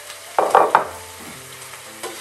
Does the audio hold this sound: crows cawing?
no